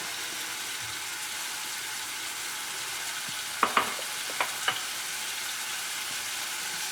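Sri Lankan green beans curry frying in a pan, with a constant hiss of sizzling throughout and a short burst of four light spoon clinks and scrapes midway, close and clear.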